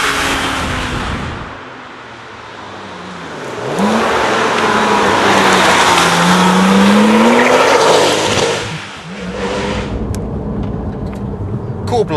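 A Porsche 997 GT2 sports car speeds past, its engine swelling from a distance to a loud, rising roar with a pitch sweep as it passes close, then fading away to a lower hum.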